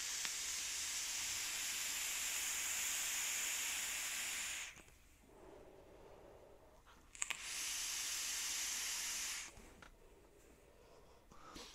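An SQRT e-cigarette fitted with a 0.4 ohm coil and filled with 70-30 juice fires in two long, close hissing draws of about five seconds each. The quieter gap between them carries soft breathing.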